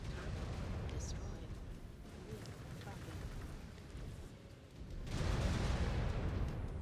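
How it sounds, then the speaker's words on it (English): Explosions and gunfire roll through a video game battle, a continuous rumbling barrage with scattered pops, swelling into a louder, denser blast near the end, a voice speaking faintly beneath it. "Would you stop shooting me? Stop making explosions."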